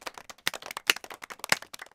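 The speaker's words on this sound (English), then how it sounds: "Round of applause for COVID, our new best employee." Applause in an animated short, a small group's quick, crisp claps in irregular bursts, fairly close and light, with no voices.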